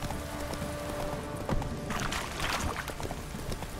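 Roach, the horse in The Witcher 3 video game, galloping with steady rhythmic hoofbeats amid ambient game sound, moderately loud and continuous.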